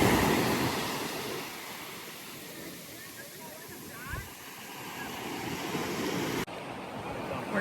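Ocean surf rolls onto the sand at Marconi Beach on Cape Cod, with dunes behind: a steady, broad wash of breaking waves heard close and continuous, with one brief low thump partway through.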